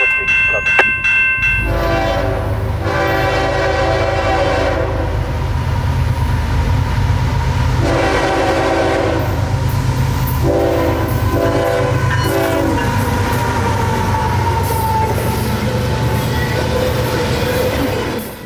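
A coal train with locomotive 902 rolls past a siding, its loud horn blaring in sustained blasts near the start, then a steady rumble and clatter of wagons continuing close by.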